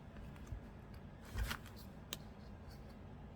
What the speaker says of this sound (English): We'll just quickly leaf through it because honestly I don't remember too much about it.